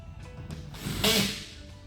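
A cordless power tool on low torque zips fasteners into a Leitner GearPOD XL Gen 2 rack, with a short whirring burst in the middle over faint background noise.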